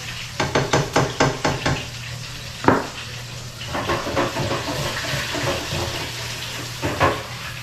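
A spoon stirs crawfish sauce with cornstarch in a pot, a string of rhythmic scraping knocks at first, then a sharp clank and softer, irregular stirring over a low simmering hiss.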